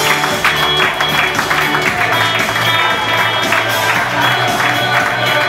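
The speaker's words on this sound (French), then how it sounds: "sous vos applaudissements" Audience applause at a fashion show runway, a moderately loud wash of clapping mixed with crowd noise and background music, sustained without pause.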